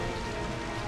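Steady rain falling during a battle in Pokémon Colosseum, a dense continuous hiss with no breaks.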